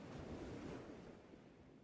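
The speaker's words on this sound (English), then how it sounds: "Waves far off in the distance come crashing down, and water laps against the rock." Soft, distant ocean surf crashing below a rocky outcrop at sunset, a steady washing roar with water lapping against the rock, fairly faint and alone.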